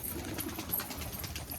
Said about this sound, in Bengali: এই যে ম্যাড্রাস পায়রাগুলো এক এক করে দেখাই আপনাদের